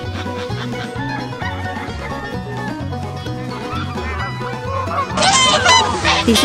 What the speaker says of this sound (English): This is a gander.